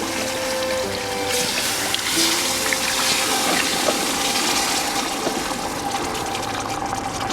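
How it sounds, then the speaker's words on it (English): Warm chicken stock pours into a pot of dark gumbo roux, a steady, close liquid rush and splash that holds level throughout with no pauses. "So now I'm going to start putting in my chicken stock."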